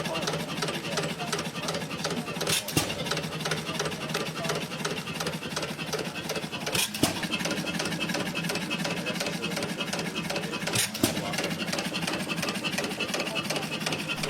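An antique cast iron petrol engine of simple low-speed design runs steadily, a dense continuous mechanical chug and rattle with a few brief louder knocks, close and unbroken throughout.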